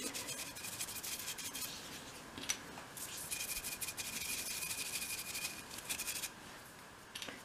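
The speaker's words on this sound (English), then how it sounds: "just go over with a nice soft brush and get rid of the sanding dust" Quiet, repeated strokes of a soft brush sweeping sanding dust off small dollhouse pieces, soft and close, with brief scratchy bursts and no voices.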